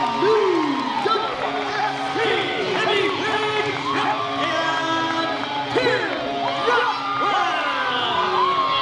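A crowd of fans, many of them kids, cheers and shouts wildly after a heavyweight title cage match, a loud, continuous roar full of high whoops and screams, with an announcer's voice talking over it.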